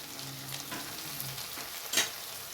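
Onions fry quietly in a pan with salt and turmeric for aloo poori curry, with soft sizzling, a few light stirring scrapes and one sharper clink near the end, with no voices.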